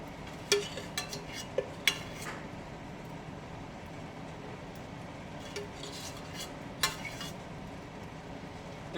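Tomato sauce being mixed for omurice in a pan, heard as quiet scraping with a few sharp clinks of utensil against cookware scattered through the stretch over a low background hum.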